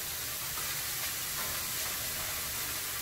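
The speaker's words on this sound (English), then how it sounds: "The important thing when you're dry sauteing is just to keep the food moving so that no one place sticks on the pan." Onion dry-sautéing in a pan without oil, a steady close hiss and sizzle with faint stirring scrapes, no voices.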